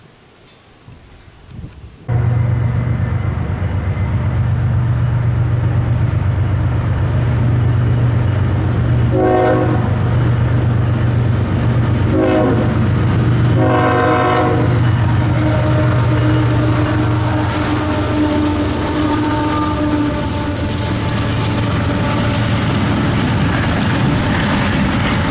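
A stack intermodal freight train rolls past at close range in a steady, loud roar of railcars, its horn blaring in several separate blasts partway through.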